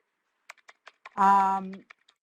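Computer keyboard typing during an online webinar, sparse clicking keystrokes close to the microphone, briefly interrupted by a short spoken voice in the middle.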